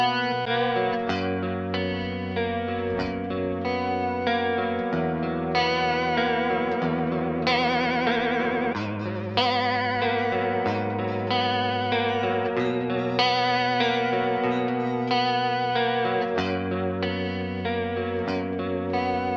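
Electric guitar through a TC Electronic John Petrucci Dreamscape pedal set to vibrato, playing sustained chords and melodic lines with a warbling pitch wobble, steady and up-front with no speech.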